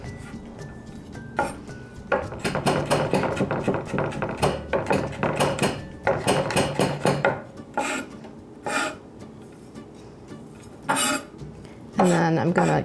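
Knife strokes slicing garlic cloves on a cutting board, a quick run of crisp, rasping cuts and taps close by, pausing briefly before a few more scrapes; no talking.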